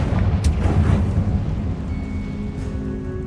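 A Confringo spell blast in Hogwarts Legacy on PS5, a loud low boom with rumbling crackle that fades after about a second and a half into a quieter hum, with no talk.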